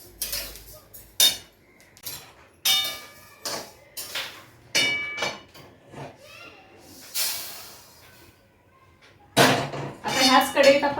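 Roasted sesame seeds get scraped out of a kadhai onto a plate: repeated metal scrapes and clinks, close and uneven, with a person talking between them.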